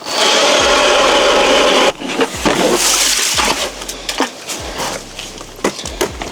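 A loud, steady grinding drone of a motor-driven auger boring a fishing hole through ice, cutting off abruptly, followed by scraping, clunks and slushy rasping.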